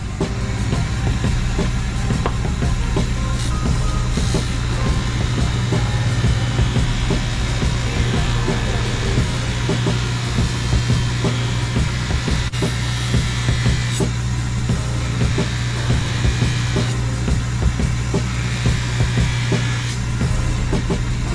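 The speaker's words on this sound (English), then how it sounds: "I'm going to finish the rest with the Dremel tool, and I can use the same paste." A Dremel rotary tool polishes a horseshoe knife with polishing paste, a steady high-pitched motor whine with a low hum running continuously and evenly throughout, close and fairly loud with no talking.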